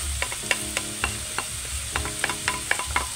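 Onion and garlic sauté in a pan with a busy sizzle, broken by frequent quick scraping and clinking strokes of a spatula stirring near the mic, with no one talking.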